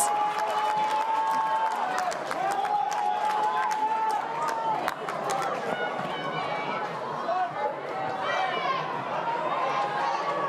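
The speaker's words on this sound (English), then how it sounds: "The urging from the crowd here at McCullough Park." A football crowd at McCullough Park urges on the players during an A-League Women's match between Canberra United and Western United, a steady wash of chatter and calls that runs throughout, with a commentator talking over it.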